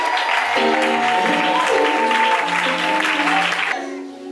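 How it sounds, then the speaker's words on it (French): A church congregation applauds and acclaims Jesus in a dense, continuous wave of clapping and crowd noise, with sustained musical tones running beneath it until it thins out at the end. "Lève-toi et commence à clamer fortement Jésus."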